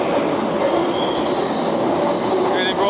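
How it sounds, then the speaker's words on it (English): A westbound London Underground train pulls into Oxford Circus, a loud, continuous rumble of wheels on rail with high squealing as it rounds the curve into the platform. "off to Marble Arch with the westbound train. Look, and here it's coming round now."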